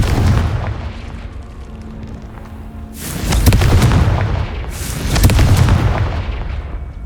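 Two heavy booming blasts of the Confringo fire-blast spell in Hogwarts Legacy erupt a couple of seconds apart over a low rumbling game backdrop, each loud and swelling before fading.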